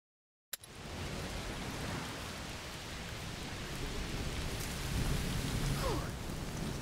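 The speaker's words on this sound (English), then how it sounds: "It's raining a lot." After a sudden crack, heavy rain pours down continuously with a deep rumble of thunder underneath, building slightly louder toward the end, in the video game A Plague Tale: Requiem.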